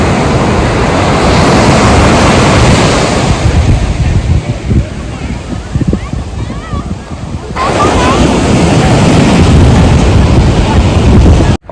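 Sea waves breaking on the beach at Konark in the morning, a loud continuous wash of surf with wind buffeting the microphone, dipping briefly before swelling back up.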